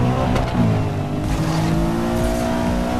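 BMW M3 Coupé driving in Need for Speed Most Wanted, a steady loud engine drone with rising and falling pitch as it accelerates, close and continuous.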